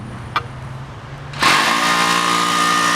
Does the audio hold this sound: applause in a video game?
no